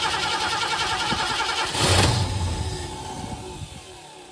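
A 1973 Ford Mustang Fastback engine, long left rotting in a yard, cranks and catches after being given more fuel, swelling into a rough, close roar before settling toward an uneven idle.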